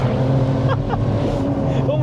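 The engine and big exhaust of a 500 bhp BMW 135i with an N54 engine drone steadily from inside the car, with short rising rasps under a continuous hum.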